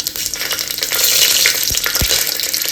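Whole cumin and green chilies frying in ghee inside a pressure cooker give a loud, steady, close sizzle, with a couple of dull knocks from stirring near the end.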